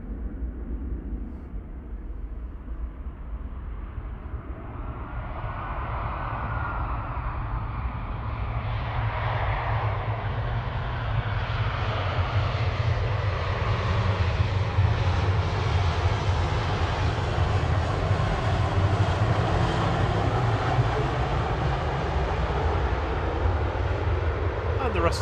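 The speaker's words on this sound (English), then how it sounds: "EasyJet 2201 in the background departing to Berlin finally, GZOU A320 Classic." An EasyJet Airbus A320 Classic departs Manchester Airport, its jet engine roar building steadily into a loud, sustained rumble with a rising whine as it climbs away, with a voice talking over it.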